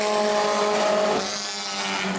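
A Bomber A class race car at New Smyrna Speedway roars past during a qualifying lap. The engine drones loud and steady with a harmonic whine, easing slightly as the car passes, with no talk over it.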